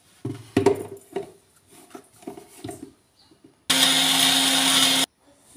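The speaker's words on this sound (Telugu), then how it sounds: "మిక్సీ పట్టేసుకుందాం." Light knocks and clatter come first, then a mixer grinder blending carrot with sugar into a paste bursts into a loud, steady whirring roar for about a second and a half before stopping abruptly.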